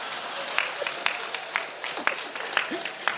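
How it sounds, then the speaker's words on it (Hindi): A few scattered claps ring out at a Hindi poetry gathering, sparse and spaced roughly every half second over a low room hiss, with a voice briefly heard between them. "सर आपका ताली बजाइए"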